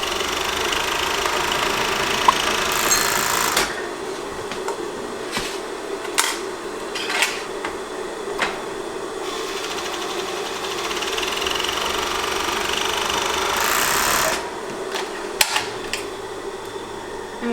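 A serger sewing machine finishes the raw fabric edges of a cloth face mask, running in a steady mechanical whir with short clicks and pauses between passes, close and moderately loud with no talking.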